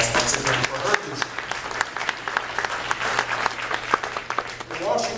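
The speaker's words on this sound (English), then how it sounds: "Give Jennifer a round of applause once again for her" A public forum audience on the need for a south suburban trauma center breaks into a sustained round of applause, steady clapping from many hands filling the room at moderate volume.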